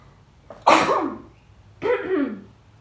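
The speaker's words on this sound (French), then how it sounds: "Excusez-moi, j'ai envie d'éternuer." Two sharp, explosive sneezes close to the mic, each with a sudden burst and a throaty tail, a short pause between them.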